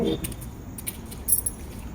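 Car keys jangle close by in short bursts of metallic clinks, brief and bright against a quiet background.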